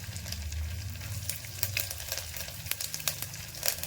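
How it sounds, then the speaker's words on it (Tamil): Garlic and curry leaves sizzling in hot oil in a pan, a steady close frying hiss with crackling pops and occasional stirring scrapes. "நல்லா பூண்டு வதங்கணும்"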